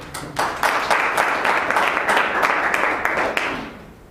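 A Toastmasters public speaking meeting audience claps for a team builder, a short burst of applause that swells quickly, holds steady, then thins out and fades near the end.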